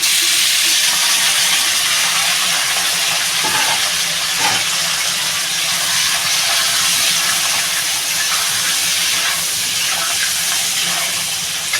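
Crab pieces for a crab and bottle gourd curry hit hot oil and set off a loud, dense sizzle that roars continuously without letup, close and unbroken by any voice.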